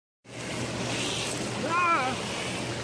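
Ocean surf washes in a steady broadband rush, with wind buffeting the microphone and a brief voice near the end.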